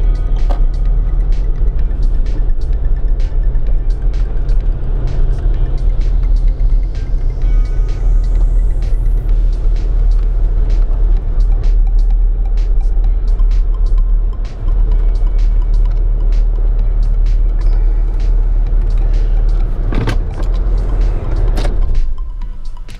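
A car pulls up and slows to a stop near a quay in Bideford, its engine rumbling loudly and steadily inside the cabin, with a rising whine and a couple of sharp knocks toward the end.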